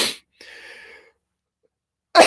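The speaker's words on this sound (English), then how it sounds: "As I cough and sneeze" A person sneezes in sharp, breathy bursts, with a short voiced sound between them and a moment of silence before the final burst.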